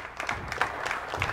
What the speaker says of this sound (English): the crowd rising to their feet, a socially distant crowd, and applauding both teams